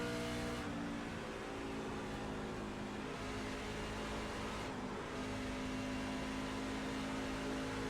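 Race car engines in the iRacing simulator drone steadily through a NASCAR-style stage race, a dense, continuous mechanical roar with sustained tonal hum that dips briefly near the start and again around the five-second mark.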